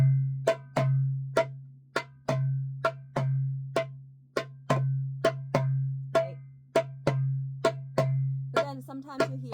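Dabke percussion plays the basic Nawari rhythm: a steady, repeating pattern of sharp hits over a sustained low drone, played alone and close for nearly ten seconds.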